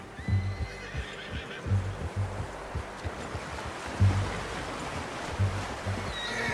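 A horse in the video game Red Dead Redemption 2 neighs and whinnies several times, fairly close, over a steady wash of ambient outdoor noise with some hoof clopping.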